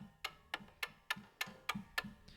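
Fast clock ticking sound effect: eight crisp, evenly spaced ticks about a quarter second apart, close and clear over a faint background, with no voices.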